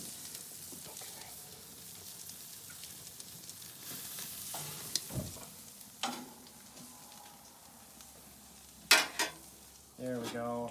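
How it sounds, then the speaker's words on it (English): A duck sears on a hot grill, giving a steady close sizzle and crackle that runs throughout, with a few clacks of tools and a louder rattle near the end. "we need the hot sear to give a nice crust on the outside"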